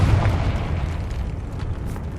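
The Confringo spell in Hogwarts Legacy bursts as a heavy, booming fiery explosion that rumbles loudly and then decays over about two seconds, with no voices over it.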